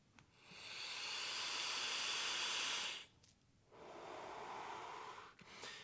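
A Voopoo Argus Pro pod with a 0.15 ohm coil at 65 watts and wide-open airflow, drawn in one long, steady airy hiss, a short pause, then a second softer pull, close up.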